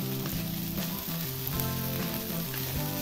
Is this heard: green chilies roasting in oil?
yes